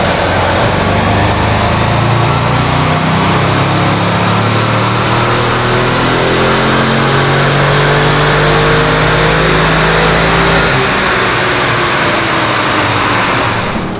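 A stock car engine revs hard on a dyno during a power run before a cone air filter swap, one loud, continuous climb in pitch sustained for around ten seconds, then cutting off abruptly, with no talking.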